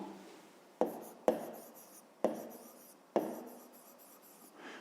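A pen writes an answer in a notebook, heard close and quiet as a few separate scratchy strokes with short pauses between them.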